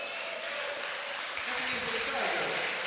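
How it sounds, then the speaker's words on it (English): Fans applauding as a player checks out of a high school basketball game in a Carbondale gym, a steady wash of crowd clapping heard under a voice talking. "Menarchuk will check out and get a round of applause from the fans here in Carbondale"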